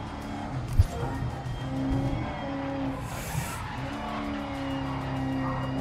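Race cars in GRID Legends lapping a circuit, engines droning continuously while tires squeal and skid in long drawn-out smears, with a brief sharp knock early on.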